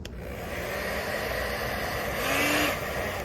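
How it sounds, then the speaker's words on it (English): Hair dryer on its low setting warming boot polish on a leather boot, a steady broadband whoosh throughout with a slight rise in loudness and a faint whine near the end, no voices. "I use the hair dryer and I put it on low."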